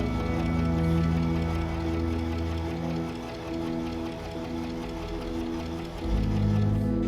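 A sewing machine runs steadily in a close, loud mechanical hum with rapid stitching rhythm, changing speed briefly near the end.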